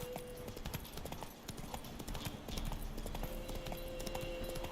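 Roach the horse in The Witcher 3 video game, hooves clip-clopping in a steady trotting rhythm, close and clear over ambient game sound.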